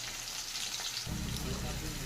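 Radhuni, bay leaf and dried chilli hit hot oil for tempering. A soft background crackle suddenly swells into a loud, close sizzle that keeps hissing to the end.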